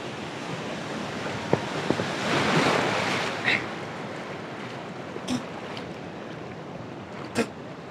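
Surf rolls in steadily on Tajpur beach, a long open seashore, with a broad continuous wash and wind noise, plus a few faint distant knocks and splashes.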